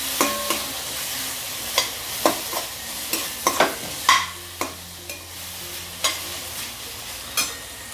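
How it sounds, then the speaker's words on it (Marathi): Onion and chopped tomato sautéing in a pan, a spoon scraping and tapping the pan in irregular strokes over a soft continuous sizzle, close up with no talking. "आता हा मी टोमॅटो टाकला, चांगलं परतून घ्यायचं।"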